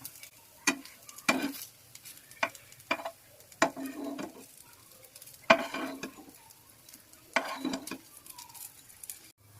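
Puffed rice (murmura) cutlets frying in oil in a pan, with sharp intermittent clicks and scrapes of a utensil turning them over a light patter of frying, close by, without speech.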